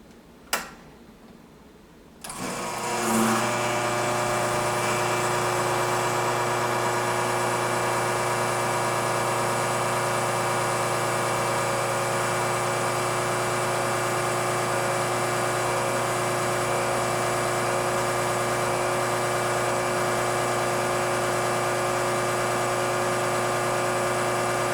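An Izzo Alex Duetto II espresso machine pump starts with a sharp click and runs as a steady, loud vibratory hum for over twenty seconds while pulling a shot, with a constant buzzing tone throughout.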